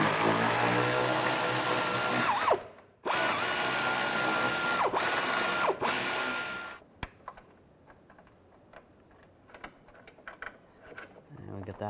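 A power tool whines loudly and steadily, pausing twice, as a bolt is loosened on a Chevrolet Cobalt during clutch work. It then gives way to quieter clinks and rattles as the bolt comes out.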